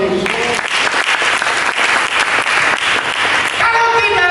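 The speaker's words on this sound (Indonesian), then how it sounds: "Dengan tepuk tangan bagi Yesus." Church congregation applauds loudly and continuously, a dense wash of clapping from many hands that fills the room before fading at the end.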